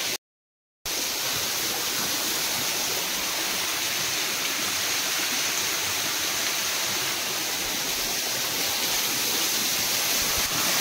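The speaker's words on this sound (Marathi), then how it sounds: "अंगावर पाणी पडतंय सगळं" Water pouring and splashing inside the Bhairavnath cave at Jayanti Mata temple, a loud, dense, continuous rush that fills the space after a brief silent start, with no talk.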